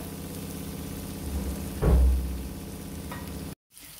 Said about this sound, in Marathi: कांदा जास्त पण परतायचा नाही, एक असा गोल्डन कलर येईल